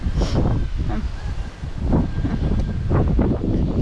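Wind gusting outdoors beside a fish pond in rural Thailand, a loud rough rumble on the microphone in repeated surges, with rustling around it.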